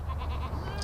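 A single short goat bleat, close and fairly quiet, heard alone on a farm raising show wethers.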